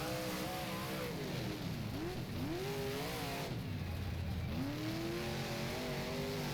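A big block modified race car engine in the rFactor racing game at Utica Rome roars steadily throughout, its pitch climbing and dipping as the throttle is stomped and lifted through the corners.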